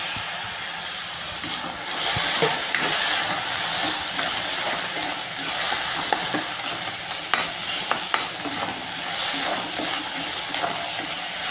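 Onion, ginger paste and crushed garlic sauté in a pan for a turkey berry curry. A constant sizzle sits under repeated scraping and clinking of the stirring spoon, close and clear, with no talking.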